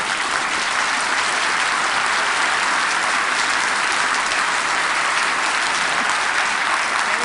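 An audience claps steadily and densely together, a loud continuous roar of hands meant to mimic rolling thunder, with no pauses throughout.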